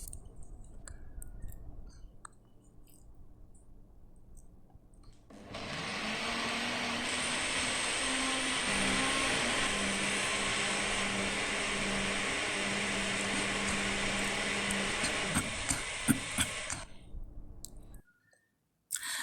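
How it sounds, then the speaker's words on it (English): A Toshiba blender runs for about ten seconds, blending Assam pedas spice paste of chillies, turmeric, candlenuts, lemongrass and shrimp paste, with a loud steady whirring motor that starts abruptly and cuts off, framed by quieter clicks and handling sounds. "I use this Toshiba blender."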